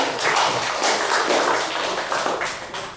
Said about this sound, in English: Another applause for Ann.